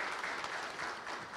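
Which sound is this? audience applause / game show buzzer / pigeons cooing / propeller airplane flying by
audience applause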